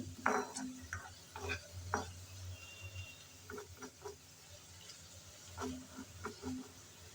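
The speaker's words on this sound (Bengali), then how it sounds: "লাল লাল করে আমি পেঁয়াজ, রসুন আর মরিচ ভেজে নিচ্ছি" Onions, garlic and chillies frying in a pan for dal, with a low steady sizzle and intermittent scraping stirs and utensil clicks, fairly quiet and close, with no talking.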